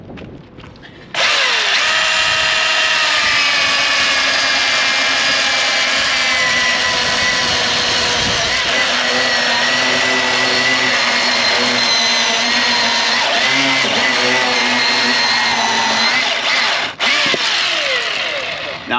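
A Milwaukee battery-powered chainsaw cuts discs from wood, starting abruptly into a loud, sustained high whine with a rough cutting rasp that wavers under load for about eighteen seconds before stopping.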